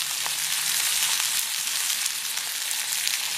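Sliced big onions, green chillies and curry leaves sauté in hot oil in a pan for a South Indian chickpea sundal, giving a steady, close, bright sizzle with faint crackles throughout, and no talking.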